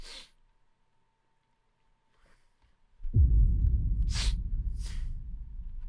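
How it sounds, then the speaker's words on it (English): A single sharp sneeze bursts out at the start, followed by silence and then a loud, steady low rumble of background noise. "Sorry, I had to sneeze."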